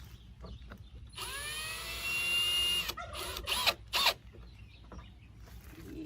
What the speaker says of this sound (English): Now I am going to put 2 more screws in here just so that it stays secure